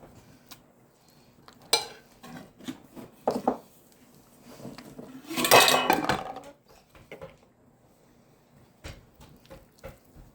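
Apples tipped into a dish of biscuit batter and stirred with a utensil for apple swim biscuits in a home kitchen, giving scattered clinks and scrapes against the dish and a louder burst of mixing and clattering midway, with no talk.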